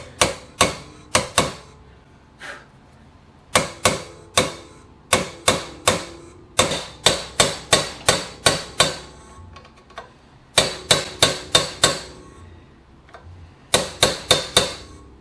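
Groove being cut into a stubborn steering stem bearing ring on a 2021 Kawasaki KX250F: sharp, close metallic strikes in quick bursts of several blows, each burst followed by a short pause.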